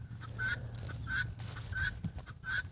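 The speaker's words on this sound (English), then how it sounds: "And those guineas are loud." Guinea fowl calling nearby on a farm, a repeated harsh two-note cry about every two-thirds of a second against a low rumbling background, with no talk.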